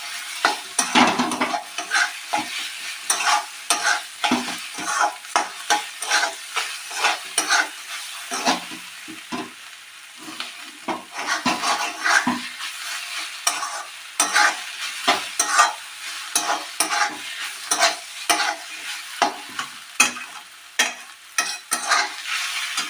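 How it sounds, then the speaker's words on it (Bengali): Poppy seeds fry in oil for a Bengali yam and cauliflower dish as a spoon scrapes and stirs the pan in quick, repeated strokes over a steady, close sizzle. "পোস্তটাকে আমি তেলের মধ্যে একটু নেড়ে এইবার এর মধ্যে মিক্সড করে দেবো"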